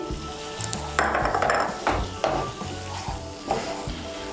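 Chopped tomato stirred into a frying cashew-curd masala for potol do pyaza, with repeated scraping spoon strokes over a loud, continuous sizzle and a few pan clanks.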